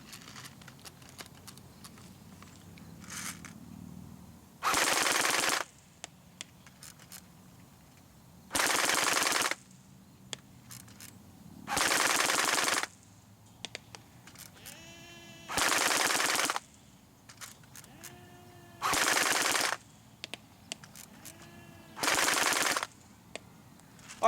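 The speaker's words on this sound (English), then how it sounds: "Let's go full auto." Loud full-auto bursts from an ARES H&K G36C electric blowback airsoft rifle at an outdoor target range, six separate rattling strings of roughly a second each, spaced a few seconds apart with quiet between.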